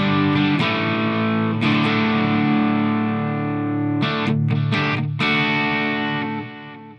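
A crunchy, distorted electric guitar tone from a Line 6 Floor POD strums a few sustained chords with brief choppy breaks, loud and close, then fades at the end.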